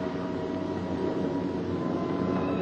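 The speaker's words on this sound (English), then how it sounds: "Every ear strains for the first sound of the engines." A steady, continuous drone of approaching B-17 bomber engines fills the clip, a broad rumbling roar with a low hum, holding level throughout without voices.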